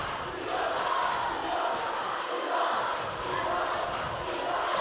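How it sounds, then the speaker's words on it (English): Loud crowd of opposing fans cheering at a high school basketball game, a steady roaring wash of voices and yelling that fills the gym without letting up. "It's probably been the loudest opposing crowd we've had all year."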